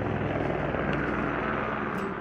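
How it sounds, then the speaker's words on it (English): Helicopter flying over Los Angeles at night, a steady, fairly distant rotor and engine drone heard alone without any voices. "I can't because of the helicopter"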